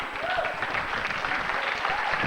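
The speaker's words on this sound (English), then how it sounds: "it's so 20th century when a commercial gets a round of applause" Studio audience gives a round of applause after a commercial, a dense, even wash of clapping with faint talk underneath, steady throughout.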